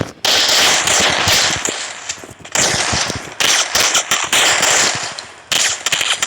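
Rapid automatic gunfire in a video game's wolf mode, loud dense bursts of shots that stop briefly at intervals and then resume.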